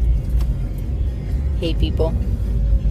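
Car stuck in traffic, a steady low engine rumble and road noise inside the vehicle throughout, with people talking over it.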